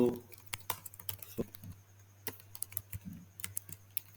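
Typing on a computer keyboard produces sharp, irregular key clicks in short bursts, fairly quiet and close, over a low steady hum, with someone talking softly at times.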